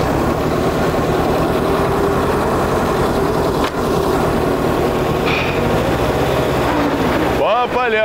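A homemade tractor built from a Zaporozhets car runs with a steady, loud, close engine drone that holds a constant throbbing tone for several seconds, ending with a brief voice near the end.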